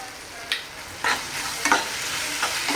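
Soy sauce and chilli sauce sizzle in a frying pan over low heat, a steady crackling hiss broken by a few sharp stirring scrapes, close and alone with no talk.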